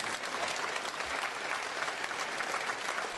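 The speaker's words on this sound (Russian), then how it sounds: "Эти овации, дань уважения и радость за победителей" Dense, sustained ovation from a packed theatre audience at an award ceremony at the Kamal Theatre, a steady roar of many hands clapping at once with no pauses, no talk.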